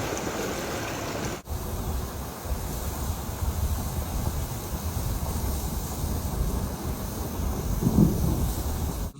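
Heavy rain pours steadily at Poghos Petros church in Armenia, a dense continuous wash with some wind buffeting, with a sharp crack early on and no talking.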